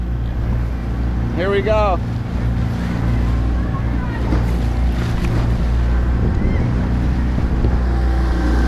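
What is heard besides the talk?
motorboat passing, waves from its wake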